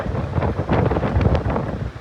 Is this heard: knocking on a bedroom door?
no